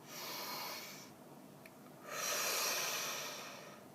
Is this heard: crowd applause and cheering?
no